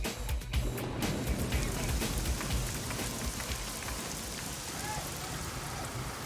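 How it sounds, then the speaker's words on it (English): Heavy rain pours steadily onto a house construction site, a dense, loud wash of drops hitting surfaces close by with no let-up for the whole stretch. "Then the rain comes, so we have to work with the rain, and it's coming down quite hard."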